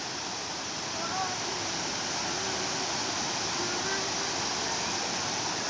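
Bangon Falls pours in a constant, even roar of falling water, loud and close, a broad hiss that never changes for several seconds.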